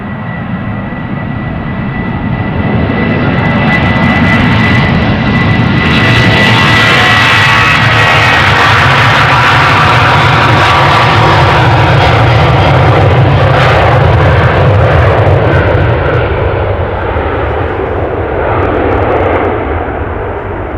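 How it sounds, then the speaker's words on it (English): A four-year-old airliner departs runway 36L at Amsterdam Schiphol Airport with a loud, sustained roar of jet engines that swells and holds for about twenty seconds before slowly easing off. "It's a 4-year-old plane and it's ready to go."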